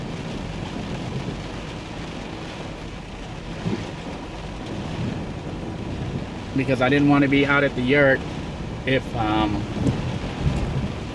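Steady rain, likely with thunder rumbling, at a bushcraft camp near a yurt, a continuous wash of weather under someone talking closely for much of the time.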